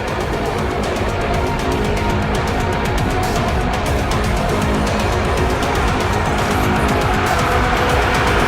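A car at speed on a racetrack during a track day, a loud continuous engine roar with road and wind noise, steady and close throughout with no talking.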